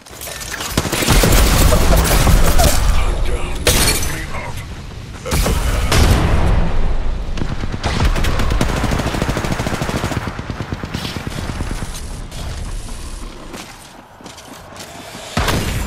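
Gunfire fills a firefight in the video game Apex Legends. Loud, dense bursts of automatic weapon fire and booming impacts continue almost without a break and only thin out slightly near the end.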